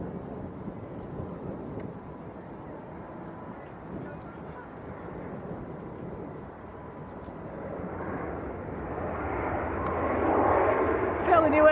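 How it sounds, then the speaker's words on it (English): A Ryanair airliner arriving from Bucharest on short final approach roars low and broadband, swelling louder as it nears, heard from outdoors with wind buffeting the microphone. "Next arrival on short finals is Ryanair from Bucharest."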